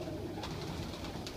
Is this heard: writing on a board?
no